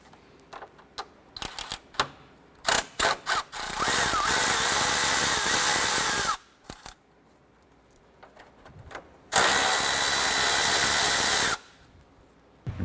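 Two long bursts of a power tool spinning off the 10mm bolts on a 2008-2012 Honda Accord radiator fan, each running a few seconds, separated by clicks and handling clatter of the tool and parts.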